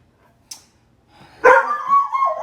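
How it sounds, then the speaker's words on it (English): A dog barks indoors, giving one short sharp yip and then a louder, drawn-out bark with a whining tail, and no talking over it. "Hear my crazy dog in the background."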